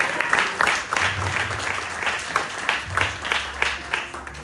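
A church congregation breaks into applause during a family service, scattered clapping rising and falling in bursts, with a voice speaking faintly underneath.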